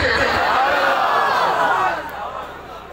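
A large crowd at a night religious gathering for Eid Milad un Nabi, with small children standing and raising hands, chants slogans in a loud, sustained unison roar that fades slightly toward the end.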